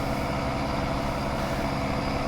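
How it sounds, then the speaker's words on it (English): A heavy diesel pickup truck engine, a Power Stroke in Farming Simulator 19, idles steadily with a deep, continuous low rumble and no break, close by and fairly loud. "Engine sounds accurate, I would think, for a power stroke."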